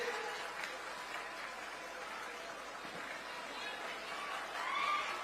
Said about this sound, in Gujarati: તાળી પાડવાનું ચાલુ રાખીશું